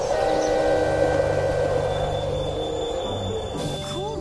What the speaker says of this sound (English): It's fun to ride the train, isn't it?